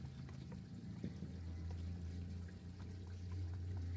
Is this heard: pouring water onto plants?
yes